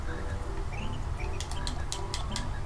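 Bird chirps and tweets from the Banjo-Kazooie video game sound in quick short calls over busy game music and background noise.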